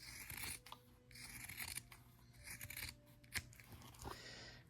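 Scissors snip through the corners of machine-embroidered fabric, giving a run of small crisp cuts and scratchy rustles at close range, fairly quiet and with no talking.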